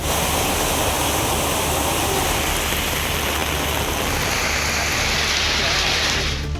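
Heavy rain pours down over the Karaikudi and Tiruppattur area, a dense, even roar of water with no break, loud and steady throughout.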